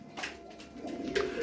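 Soft pigeon coos repeat over steady low background noise, several tumbler pigeons murmuring close by in a gentle, continuous rhythm.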